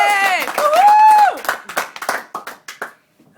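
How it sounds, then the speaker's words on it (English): Audience at a Sydney Fringe comedy show lets out a rising whoop, then breaks into a short burst of scattered, uneven clapping that thins out within a couple of seconds. "Let's have a round of applause, guys."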